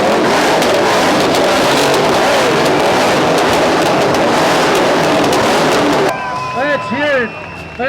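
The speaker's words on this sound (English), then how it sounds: "Let's hear it for the cars." Cars race at a charity car and barbecue event in Ottawa with a loud, dense engine roar and road noise for about six seconds. It cuts off abruptly, followed by a crowd shouting and cheering.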